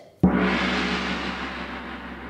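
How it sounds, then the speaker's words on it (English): A single strike on a large circular gong with a large mallet, followed by a long, broad shimmering wash of sound that sustains steadily without fading much. "Then we have the gong."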